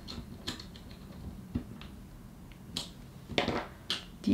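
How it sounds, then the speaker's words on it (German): Screw being tightened into the hollowed side of an xTool F1 laser rotary attachment, heard as close, quiet clicks and small creaking, ratcheting ticks in an irregular sequence, the last few louder. "Und dann schrauben wir das hier innen drin fest."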